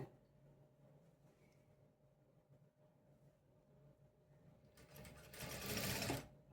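A sewing machine back stitching runs in a short, loud whirring burst near the end, after a stretch of low, quiet room hum, close to the listener and without speech.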